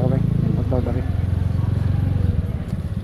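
A nearby motorcycle engine runs with a steady, low, throbbing rumble, while people talk over it in the first second.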